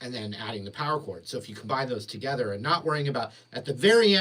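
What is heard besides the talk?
No everyday noise stands out behind the speech.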